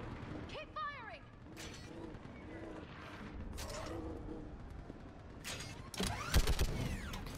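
Gunfire aimed at a barrier during combat in Mass Effect 3, with scattered shots and mechanical clanks. A heavier, louder burst of fire arrives near the end.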